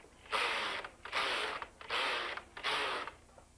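A knitting machine carriage sweeps across the needle bed four times, knitting rows of a tension swatch; each pass is a loud, rattling mechanical whir about half a second long, separated by brief pauses, with no talking.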